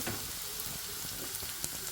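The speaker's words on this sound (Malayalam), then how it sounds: "നമ്മൾ സവാളയും ക്യാരറ്റും ഇഞ്ചി പച്ചമുളക് ഉള്ളിപ്പരിപ്പ് മുന്തിരി ഇതെല്ലാം വാടിയിട്ടുണ്ട്" Onion, carrot, ginger and green chilli sizzling in a pan for upma, a steady close hiss of frying with faint stirring taps.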